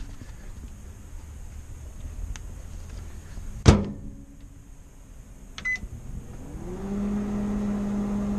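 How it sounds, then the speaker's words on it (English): A sharp clunk, then a few quiet beeps, followed by a steady low electrical hum as an 1,800-watt microwave oven starts running on off-grid power in an RV. "cooking with microwave power, off-grid, finally, without running the noisy generator."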